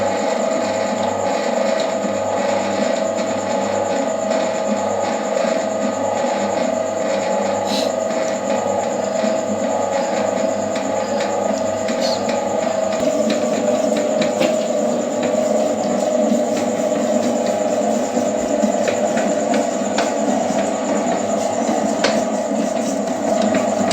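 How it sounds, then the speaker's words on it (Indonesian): An electric stand mixer kneads dough for small, cheap donuts, giving a steady mechanical whir and grinding hum that runs unbroken at a constant level with no voices. "Setelah itu kita mixer kurang lebih sekitar 10 menit atau sampai adonan benar-benar"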